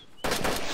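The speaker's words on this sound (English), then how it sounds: "Oh, gunfire, gunfire, watch out." A sudden loud, sharp gunshot burst in the survival video game DayZ breaks in after a quiet moment, close and harsh, with a lingering roll of noise.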